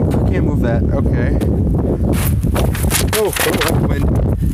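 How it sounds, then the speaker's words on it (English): Steady wind buffets a phone microphone on a snow day in Massachusetts, producing a rough, low rumble throughout, with brief voices breaking through now and then. "the wind keeps blowing the phone"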